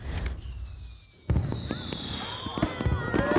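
Fireworks bursting outdoors during a group dinner, with sharp cracking explosions from about the midpoint on, rising whistles and crackling sparkle tails over a steady crowd murmur and people talking.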